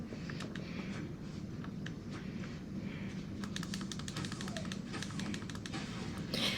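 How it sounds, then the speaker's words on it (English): Clicky computer keyboard keys being typed on near a microphone, sharp irregular taps in quick bursts over a low steady background hum. "my keys are real clicky, so that's the key clicking you're hearing is that"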